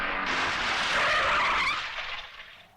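A car skids hard to a stop during a frantic getaway, a loud sustained tire screech that swells and then fades out over a few seconds, with no talk over it.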